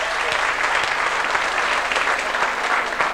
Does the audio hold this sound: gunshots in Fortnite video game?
no